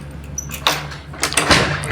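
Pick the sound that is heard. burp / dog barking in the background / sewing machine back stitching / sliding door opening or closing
sliding door opening or closing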